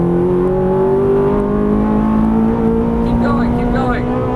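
A Ferrari 430 engine pulling hard on a race track, a loud steady in-car drone rising gradually in pitch as it accelerates, with a brief spoken instruction near the end.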